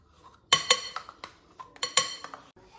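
A utensil clinks repeatedly against a bowl while oil and yogurt are stirred together for cupcake batter, the close metallic taps arriving in irregular bursts.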